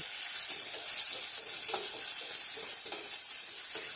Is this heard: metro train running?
no